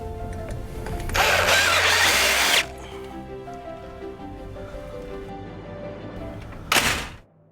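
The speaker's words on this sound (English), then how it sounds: "So I'm going to pre-drill these and add the strike." A power drill pre-drilling screw holes for a door strike on aluminum railing hardware whirs in a loud burst for about a second and a half, idles down, then revs briefly again near the end.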